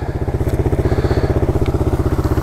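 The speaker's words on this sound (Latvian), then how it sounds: "mocīts silst" A motorcycle engine idles while warming up on a rainy day, a steady close, loud, rapid pulsing throb with light clatter, no voices.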